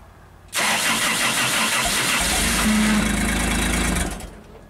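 The engine of a small JLG scissor lift cranks on the starter, catches and runs briefly at a rough idle for about four seconds, loud and close, then dies away.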